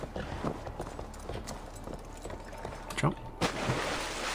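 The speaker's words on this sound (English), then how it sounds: "The rest of the journey we'll take on our horse." Steady, rhythmic clip-clop of horse hooves at a brisk pace in Assassin's Creed Valhalla, layered with busy background game noise.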